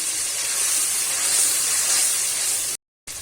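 Ginger paste hits frying tomatoes in a pan for a dhaba-style paneer masala, giving a loud, steady hissing sizzle that holds evenly for several seconds before a brief cutoff.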